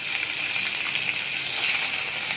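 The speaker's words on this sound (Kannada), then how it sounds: "ಕರಿಬೇವು ಹಾಕಿ ಫ್ರೈ ಮಾಡ್ತಾಯಿದ್ದೀನಿ" Peanuts and curry leaves fry in a pan for vegetable upma, giving a steady, close sizzle with a bright hiss that holds even throughout.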